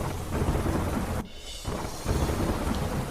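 Heavy monsoon downpour with thunder, a dense broadband roar of rain and rumbling that briefly drops away mid-clip before surging back loud and continuous.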